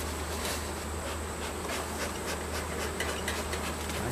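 Honeybees buzz steadily around an open hive during an inspection, a dense, constant drone close by with faint scraping and handling noises and no talk.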